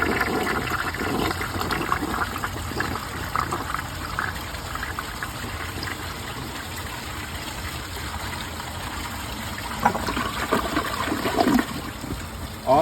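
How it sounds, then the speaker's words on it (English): A 1968 American Standard Cadet toilet flushes with a steady rushing swirl of water through the bowl, close and continuous, with gurgling and refill trickle toward the end. "now I will give this toilet a left side flush"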